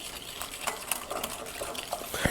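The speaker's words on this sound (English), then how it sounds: "really just whisk everything till it's fully incorporated" Custard mixture being whisked in a bowl with gelatin sprinkled nearby, giving a steady run of soft wet scraping and clicking strokes at close range, with no voices.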